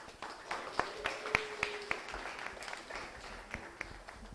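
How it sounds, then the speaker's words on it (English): A small group gives a brief, light round of applause, with scattered individual claps standing out over a quiet room. "So just a round of applause for everyone's success this semester."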